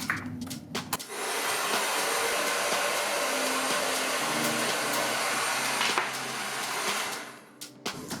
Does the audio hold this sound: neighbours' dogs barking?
no